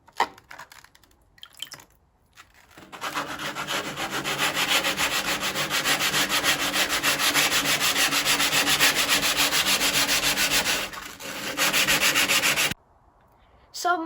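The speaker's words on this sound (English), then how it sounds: "use some wet and dry sanding paper and go over the rear fender to try and get rid of some of the rust staining" Wet and dry sandpaper rubbing rust staining off the rear fender of a 1974 Bolens HT20 tractor, a close, loud, continuous rhythmic scrubbing that runs for about ten seconds before stopping abruptly.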